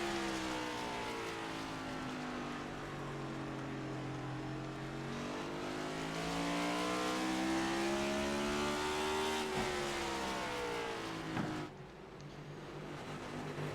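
A race car engine in the iRacing IROC Series video game drones steadily and loudly, its pitch rising and falling through revs before a sudden shift near the end, with no talking.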